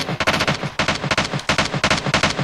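Rapid bursts of automatic gunfire in the mobile battle royale game PUBG Mobile, sharp repeated shots in several quick volleys with short pauses between them, loud and close.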